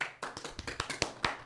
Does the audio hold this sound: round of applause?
yes